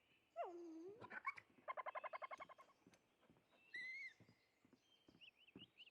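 A dog in the survival game Enshrouded whimpers and whines close up, with high drawn-out whines, a quick run of short rhythmic yelps or pants, and further thin whimpers spread across the moment, no voices.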